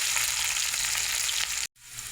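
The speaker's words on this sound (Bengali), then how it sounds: "পেঁয়াজটা ভাজা হোক।" Onions sizzle steadily in hot oil in a pan for a fish curry, a dense crackling hiss that breaks off briefly near the end, then resumes more softly.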